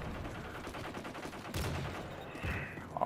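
Gunfire in Modern Warfare 3 crackles in short bursts and sharp cracks over a steady background of game noise, with a couple of louder shots near the middle and end.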